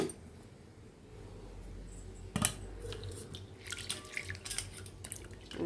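Roasted toor dal being washed in water: wet swishing and dripping sounds, with a sharp splash or clatter partway through, then soft irregular squishes and trickles close by, fairly quiet.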